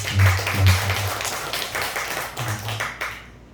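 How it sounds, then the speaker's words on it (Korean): A church congregation claps briefly in thanks, a scattered patter of hands at moderate distance with a low hum beneath and a few faint voices, fading out at the end. "우리 감사와 격려의 박수 한번 하겠습니다"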